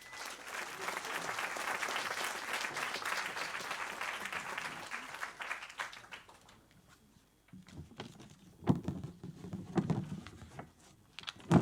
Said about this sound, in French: Wenza, sous vos applaudissements,